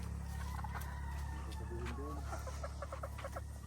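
Laying hens in a coop cluck and call in short repeated notes over a constant low mechanical hum, fairly close, with a voice faintly present at times.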